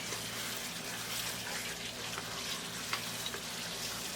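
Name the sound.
mutton frying on high flame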